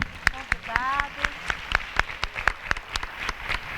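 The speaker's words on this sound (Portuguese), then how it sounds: "vamos bater palmas aqui para os nossos convidados." An audience claps for guests at an event, with a few hands giving sharp, steady rhythmic claps through the whole stretch while a voice talks underneath.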